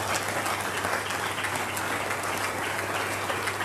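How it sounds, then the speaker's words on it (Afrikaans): Steady, dense applause from a church congregation filling a Friday evening service hall, continuous and fairly loud from start to finish with no voices over it. "Kan hierdie volk vir hulle 'n goeie hande klap gee?"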